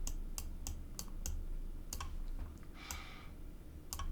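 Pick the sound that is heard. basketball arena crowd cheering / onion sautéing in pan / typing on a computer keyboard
typing on a computer keyboard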